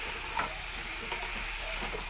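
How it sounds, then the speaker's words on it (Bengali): Beans and capsicum with cumin powder fry in a pan, giving a steady, close sizzle with a soft scrape of stirring and no talk. "এটা নিয়ে ভালো করে নাড়িয়ে চাড়িয়ে নিয়ে"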